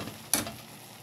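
An Easter Sunday scramble sizzles in a hot pan as it is stirred, a brief scrape over a soft, steady frying hiss.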